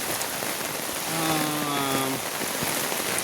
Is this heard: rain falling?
yes